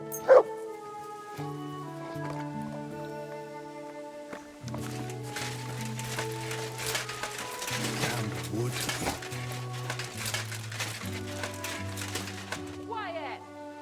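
A dog in the medieval video game Kingdom Come: Deliverance 2 yips, whimpers and barks over a sustained musical score, the barking close and repeated, with speech in the game mix.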